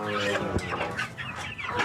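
Chickens clucking inside a coop in the early morning, several birds making repeated close, irregular clucks and short calls with no talk.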